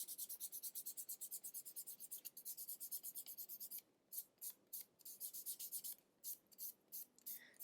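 A rough abrasive rubs rhythmically back and forth along the edge of a leather cardholder, giving soft, even scratchy strokes close up, steady at first, then briefer and more spaced out.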